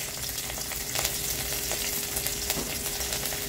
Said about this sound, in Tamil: இஞ்சி ஃபர்ஸ்ட் போட்டு வதக்கி விட்டுருங்க